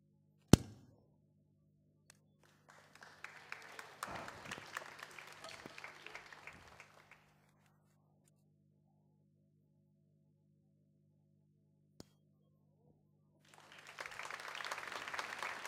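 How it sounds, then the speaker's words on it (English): Audience applause at a mentalist mind-reading show in Singapore, two bursts of clapping from a crowd, one lasting several seconds and another starting near the end, separated by near silence with a sharp tap. "Big round of applause for Angelique once again."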